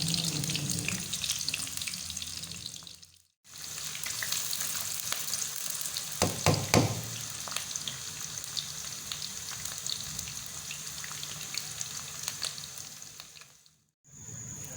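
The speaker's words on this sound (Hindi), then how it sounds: "तो अब हम इसमें शामिल करते हैं प्याज। प्याज को कर लेते हैं हम ब्राउन।" Onions fry in hot ghee in a pan, giving a steady dense sizzle throughout, broken by two brief gaps and a short stirring clatter midway.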